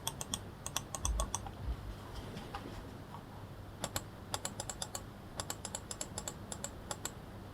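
An Asus ROG Gladius III Wireless gaming mouse with mechanical ROG switches gives crisp, close, quiet button clicks. They come in quick irregular bursts, with short pauses of near silence between groups.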